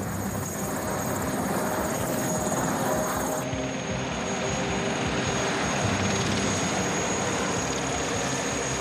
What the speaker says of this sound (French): L'hélicoptère vient les chercher.